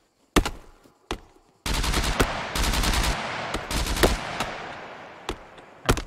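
Gunfire in the survival video game SCUM: a few isolated loud shots, then sustained bursts of rapid automatic fire with overlapping reports, trailing off into scattered single shots near the end.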